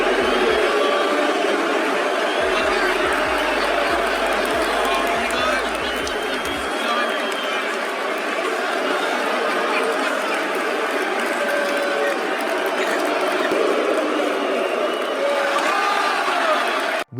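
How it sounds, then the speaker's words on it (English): Dense wrestling arena crowd during a televised Raw broadcast, a steady roar of thousands of voices chanting and cheering in unison, loud and sustained throughout with no break. "We Want Beach Ball chants could be heard after Raw returned from commercial"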